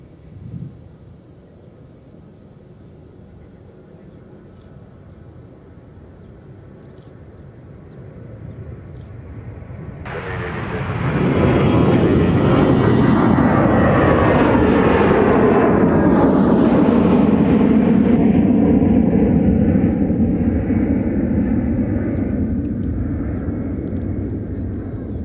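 A Delta jet airliner, the Delta 1182 flight to Tampa, departs from MSP airport. A faint distant hum gives way to a sudden loud roar at about ten seconds, which swells, holds and then slowly fades as the jet climbs away.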